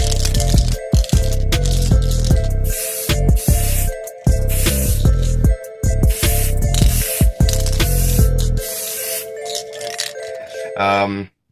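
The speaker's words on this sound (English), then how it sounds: "I started showing you how to respray these" Spray can respraying car rear LED light housings: loud, close hissing sprays in repeated bursts with short gaps and a rattling can, ending in fading sputters.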